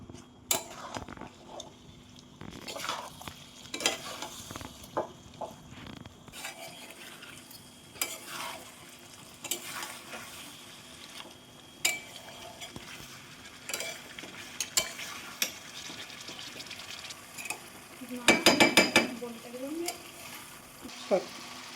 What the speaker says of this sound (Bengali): এটাকে ভালো করে নাড়াচাড়া করে কষতে হবে